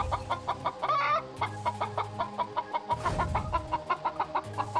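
Cartoon chicken clucking in a series of short repeated calls, with a tonal music bed running underneath and a brief burst of broadband noise partway through.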